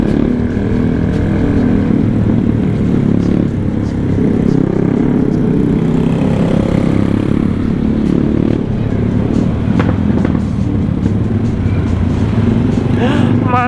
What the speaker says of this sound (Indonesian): Anjir ini motor kalau dipakai buat nanjak-nanjak gunung nyantai.